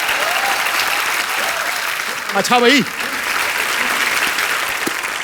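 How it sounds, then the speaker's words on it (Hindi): A studio audience at The Kapil Sharma Show, a Hindi comedy TV show, keeps up loud, continuous applause, while someone briefly speaks over the clapping partway through. "एक बार हेलन जी और आशा जी के लिए जोरदार तालियां हो जाएं"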